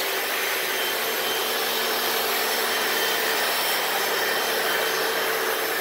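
Hoover Floormate floor cleaner scrubbing a dirty, stained garage floor, a loud, steady, close motor whir with a hissing wash that runs without a break, no voices.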